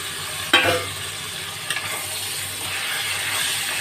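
Fish oil poured into onions already frying in a pan gives a sudden burst of sizzling, then a steady, close hiss with light stirring scrapes, and no one speaks.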